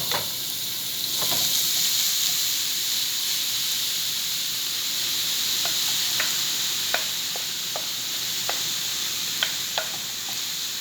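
Grated beetroot frying in ghee for beetroot halwa, a steady close hiss of sizzling with occasional clicks of a spoon stirring, no voices.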